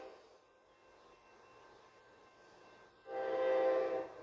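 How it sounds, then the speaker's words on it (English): A CSX autorack freight train rounds a curve at a suburban grade crossing, its rumble faint and distant before the horn sounds a loud, sustained chord near the end. "CSX coming around the curve at Sheehan Avenue, heading toward Millsdale."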